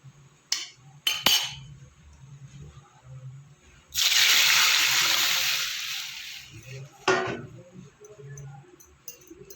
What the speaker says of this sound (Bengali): ফোড়নটা আমার এদিকে ভাজা হয়ে গেছে এবার আমি ডালটা দিয়ে দেবো